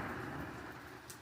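Steady pouring rain falling around a fatwood fire outdoors, a dense even hiss of drops close by with no let-up.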